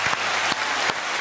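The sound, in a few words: applause sound effect for Yelena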